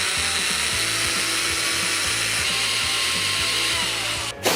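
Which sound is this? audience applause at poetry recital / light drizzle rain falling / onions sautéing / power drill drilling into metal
power drill drilling into metal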